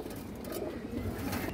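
Several chuina pigeons coo in a dense, low, rolling murmur at close range, a continuous throaty burble with no voices over it.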